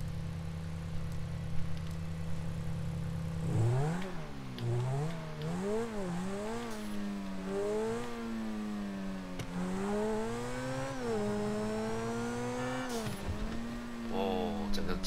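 A Grotti supercar in GTA 5 idles low, then revs hard and accelerates, its engine pitch climbing and dropping through repeated gear shifts, loud and close with a voice speaking over it.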